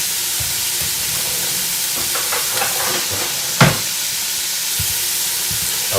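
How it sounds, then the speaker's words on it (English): Steady, bright sizzling of onions frying in olive oil fills the clip, with a few soft stirring clicks and one sharp clack partway through. "I love that sizzle."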